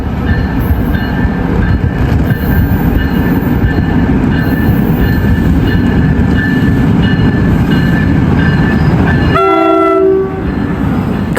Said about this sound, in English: Got a little horn there.